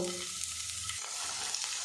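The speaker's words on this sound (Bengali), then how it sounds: "এগুলো আমি ভাজা ভাজা করে নেব" Chopped onion, garlic and green chili frying in hot oil: a quiet, even crackling sizzle with light stirring, close and continuous.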